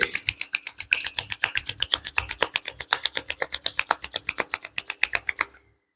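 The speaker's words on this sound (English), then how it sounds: "rub the palms" Palms rub briskly together in a steady rhythm of about forty quick strokes, close and dry, stopping abruptly near the end.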